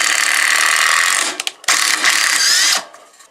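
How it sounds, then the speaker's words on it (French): A TECCPO cordless impact driver drives a screw into wood, a loud close whirring burst that stops briefly, then a second sustained run before cutting off. "Après, je prends la visseuse à choc."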